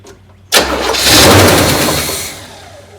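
A neglected 1972 big block car engine cranks and catches with a sudden loud bark, then roars as it revs up and settles back toward a rough idle, close and alone.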